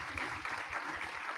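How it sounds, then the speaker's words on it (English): Audience at a Foundation Fighting Blindness conference clapping for the speakers, a faint, steady patter of many hands heard briefly and alone. "So I just want to give them a round of applause."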